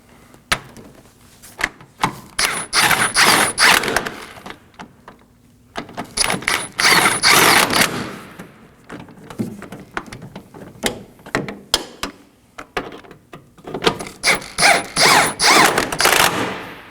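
A ratchet tightens the engine motor mount bolts on a 2013-2019 Nissan Sentra 1.8L four-cylinder, heard as three separate bursts of rapid clicking with short pauses in between. The ratchet is close and there is no talk over it.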